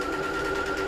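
A sewing machine runs for a short burst while back stitching, giving a steady, even mechanical hum with a clear tone. The sound is close and continuous with no talk over it.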